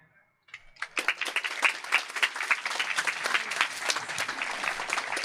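Audience applause at a Freethought Day gallery induction ceremony, starting after a short silence and building into steady, dense clapping from a moderate-sized crowd, close and continuous to the end.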